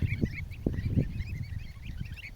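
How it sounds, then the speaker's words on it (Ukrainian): Soft peeping and cheeping of goslings, many small high calls overlapping with a few lower honks, fairly close and continuous. "Це показую вам гусенят."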